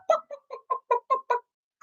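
Children's voices imitate a chicken with a run of seven short, clucking bursts in a steady rhythm, fairly close, followed by a brief pause and the start of another voice.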